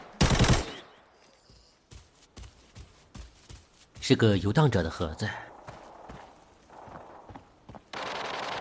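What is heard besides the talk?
continuous gunfire in video game Arena Breakout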